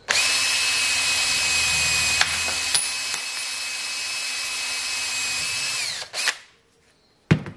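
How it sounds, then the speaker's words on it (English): A power drill whines steadily at high pitch as it bores through metal for a car P clip, with a few clicks, then winds down and stops. "And now I can drill my hole through there."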